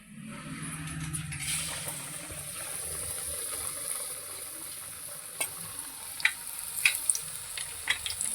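Batter-coated boiled eggs frying in hot oil as egg bajji, a steady bright sizzle with occasional sharp pops and crackles toward the end, close and continuous without talk.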